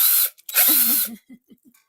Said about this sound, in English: I want to drill some of my cars.